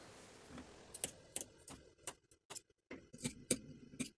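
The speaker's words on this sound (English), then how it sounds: "we're going to use sharp scissors to snip into those corners in the seam allowance" Sharp scissors snip into the seam allowance at the corners of a knit jumpsuit bodice, a run of about a dozen crisp, close clicks in an irregular rhythm with short pauses between them.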